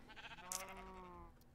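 Sheep on a sheep-shearing farm in a video game give a single drawn-out bleat with a wavering, voice-like tone, fairly close and alone, lasting about a second.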